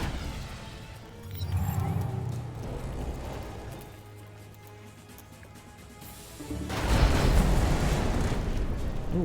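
Torpedo explosions in the video game Age of Wonders: Planetfall, fired by an Imperial submarine: two heavy, booming blasts. The first is shorter, and the second is a loud, sustained rumble near the end.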